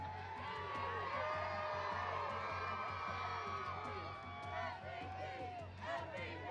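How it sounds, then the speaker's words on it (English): Crowd of Eagles fans cheering and whooping at a celebration, many shouting voices blending into a continuous roar that carries on throughout at steady loudness. "It's a hell of a crowd out here."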